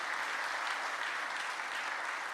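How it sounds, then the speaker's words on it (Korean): A congregation claps at a Presbyterian church service for the ordination of elders, producing dense, even applause that holds steady throughout, with no speech over it. "힘차게 축하하며 박수하겠습니다."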